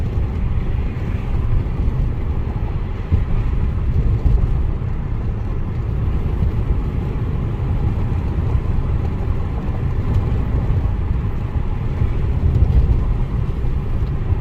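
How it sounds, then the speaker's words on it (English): A 2022 Ford Maverick Hybrid pickup drives over a stretch of bumps, giving a steady, loud low road and engine rumble throughout with no talking. "I'll drive over these bumps purposely right here."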